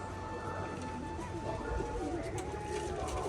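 Rajshahi pigeons coo in low, soft, throaty murmurs close by, repeating under a faint background hum.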